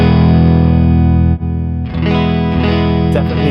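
Thick, boosted electric guitar chords ring out loud and sustained, with a brief break before new strummed notes continue, no voices present.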